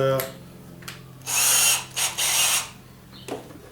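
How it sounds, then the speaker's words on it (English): A power drill with a vacuum attachment whirs in two short, loud bursts with a brief gap, and mechanical clicks and a low hum come before and after. "I've hooked up my vacuum to the attachment, so when I drill"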